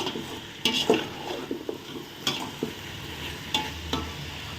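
Vegetables cook in a pan for sambar rice while a spoon stirs them, with a steady sizzle and repeated scraping knocks of utensil on pan at close range, and no speech.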